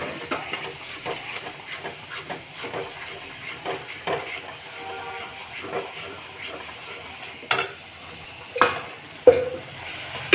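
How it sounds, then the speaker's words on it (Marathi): A paste of garlic, coconut, coriander and ginger sautés in a pan with a steady soft sizzle and hiss, broken by light scraping stirs and a few sharper clatters near the end. "ही गिरवी चांगली परतून घेऊन ह्याच्यात मला मसाला टाकणार आहे"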